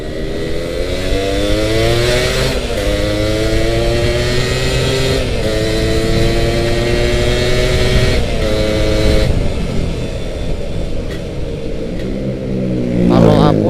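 A Suzuki Satria two-stroke motorcycle, bored out to 175 and running its stock cylinder head, revs loudly up close, its engine note climbing and falling in repeated throttle blips with no talk over it.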